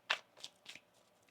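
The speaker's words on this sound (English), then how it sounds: "One more shuffle." Tarot cards are shuffled in a few quick, soft riffling bursts, the first sharpest and the rest fading, close and quiet with no talking.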